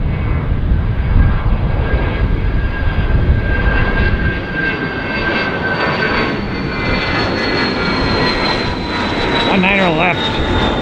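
A Dassault Falcon 2000 business jet roars steadily on an east-side takeoff at Tampa, a loud sustained jet engine rumble with whine, with faint talk over it.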